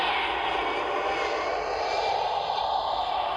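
A fast-moving aircraft in a virtual reality demo, a steady, loud broadband engine roar that holds constant throughout with no talk.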